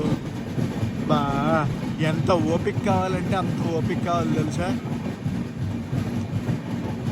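Inside the Jhelum Express on its Jammu to Pune run, the carriage rumbles and rattles in a steady low drone while the train rolls along, with a person speaking over the noise for several seconds.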